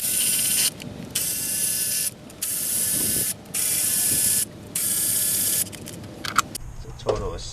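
A ratchet backs out 10mm intake manifold bolts on a 2006 Chevy Cobalt with the Ecotec 2.2L engine, giving several steady clicking runs separated by brief pauses, then quieter handling noises near the end.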